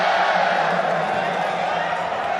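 The crowd at a kickboxing fight keeps up a steady loud roar in reaction to strikes, with shouts and whoops under a commentator's voice.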